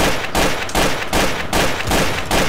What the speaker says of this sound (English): Like Nick's right behind you shooting his pistol